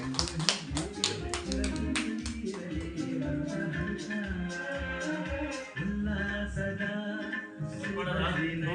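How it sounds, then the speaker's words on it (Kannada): A group clapping hands rapidly and continuously, with voices talking over the applause. "ಚಪ್ಪಾಳೆ ಹೊಡಿರಿ ಜೋರಾಗಿ, ಹೊಡಿರಿ ಜೋರಾಗಿ"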